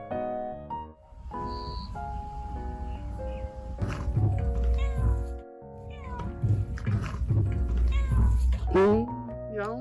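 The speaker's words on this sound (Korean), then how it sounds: "처음으로 야옹 오네?" A cat meows several times, rising and falling, with mechanical and game-like tones and thuds underneath.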